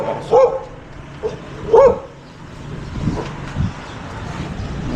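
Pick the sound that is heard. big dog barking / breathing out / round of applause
big dog barking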